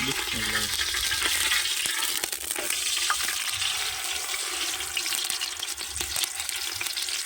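Fish sizzling steadily in pure groundnut oil in a village kitchen, a continuous loud hiss and crackle that holds throughout with no break.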